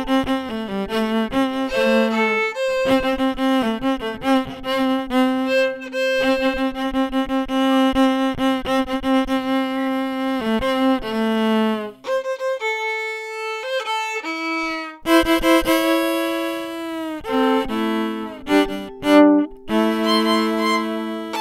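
A solo fiddle plays a bowed melody with a contrasting fill line moving against it, clear sustained notes shifting in pitch, with a short pause midway before the phrases resume.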